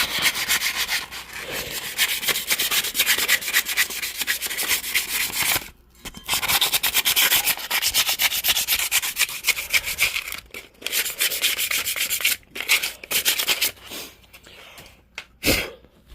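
Hand sanding scuffs the area around a freshly welded dual exhaust on a Suzuki Savage hardtail motorcycle, a steady rasping rub sustained close up, broken by a few brief pauses.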